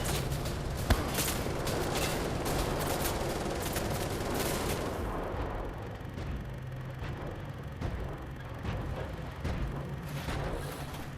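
Steady rapid gunfire in Wolfenstein: The Old Blood, a continuous dense rattle of shots with occasional sharper cracks, loud and close throughout with no pause.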